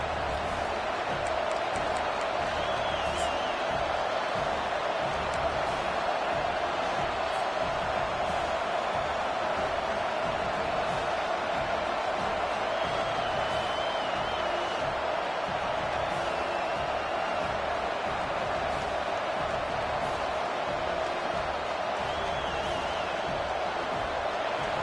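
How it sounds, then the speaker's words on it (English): A packed stadium crowd at a college football game, FSU against USC, roars steadily and loudly the whole way through, a dense and unbroken wall of cheering with no breaks. "This crowd, full throat, splitting the eardrums and letting them know it's going to be a long day"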